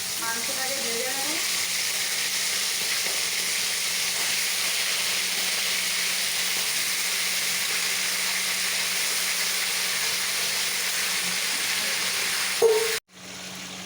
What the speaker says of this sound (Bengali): এখন আমি খালি তেলের মধ্যেই মাংসটা কষিয়ে নিচ্ছি, মানে ভেজে নিচ্ছি।